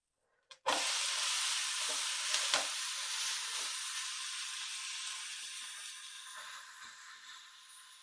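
Food cooking in a covered pan at home: a lid clatters on, then a steady, even sizzle and hiss runs on alone, slowly fading slightly over several seconds.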